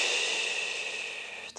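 A long, steady exhale during a hot Pilates session, a soft breathy rush that holds evenly for over a second and tapers at the end, close and alone without talk.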